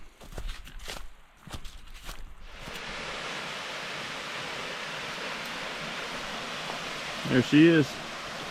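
Moonshine Falls, a woodland waterfall, roars as a steady broadband rush that swells in as footsteps crunch along the trail, with a brief voice speaking near the end.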